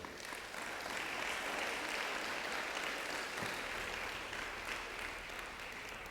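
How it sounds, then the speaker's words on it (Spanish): A church congregation applauds at a Spanish-language sermon, producing a sustained, even patter of many hands clapping that holds steady for several seconds at a moderate distance. "Da un aplauso a Él."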